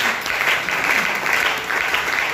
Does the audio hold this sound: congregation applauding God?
yes